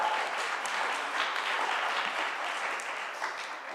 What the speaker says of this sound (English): Let's have another round of applause for the Cuba Cuties.